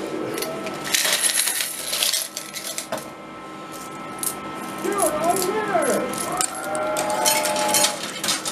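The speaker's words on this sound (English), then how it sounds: "I've also got to remove a lot of coins from the top." Coins being scraped and removed from the top section of a coin pusher arcade machine, loaded with gold and silver pieces. Steady metallic clinking and jingling runs throughout, with arcade electronic tones in the background.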